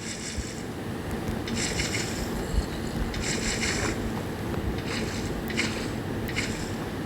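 Flowing water in the Minecraft video game, a steady wash of running water with a continuous broadband rush and brief brighter bursts, heard alone without talk.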